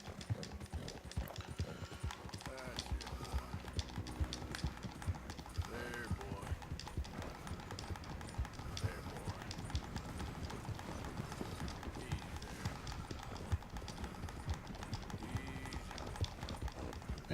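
Horse hooves while riding in the Red Dead Redemption 2 video game, a continuous rhythmic clip-clop at a steady pace, with someone talking over it throughout.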